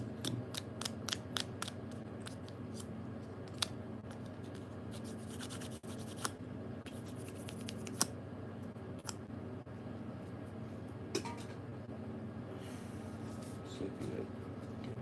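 A handheld sharpener, its shaving chamber clogged with metal, grinds and scrapes in a rapid run of close, dry strokes, then sparser clicks and rasps over a steady background hum with a faint voice.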